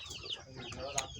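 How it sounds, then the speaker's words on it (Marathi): Hens and chicks on a small farm in Nigde, Dapoli, Konkan: faint clucking and a few sharper chirps against quiet background noise. "इकडे मोठ्या कोंबड्या आहेत, इकडे छोटी पिल्लं आहेत"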